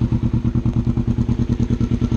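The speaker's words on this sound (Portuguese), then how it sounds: "Vamos ouvir esse ronco desse escape aí." A Kawasaki Ninja 300 with aftermarket exhaust idles warm and close by, its low engine note pulsing in a fast, even rhythm without a clear rise in revs.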